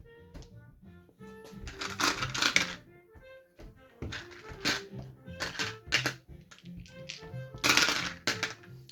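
Eight dice are rolled for a Global War 1939 board wargame, making several short bursts of close, sharp clattering clicks with quiet gaps between them.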